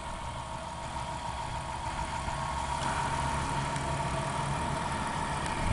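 Steady idle of a 3.3 liter V6 in a 2002 Dodge Grand Caravan Sport minivan, a continuous low rumble with even hum, close and constant throughout with no talking.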